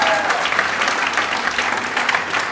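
An audience of around fifty or sixty people claps steadily and loudly at the 2016 MP Transformation Awards event, a continuous burst of crowd applause with no talking.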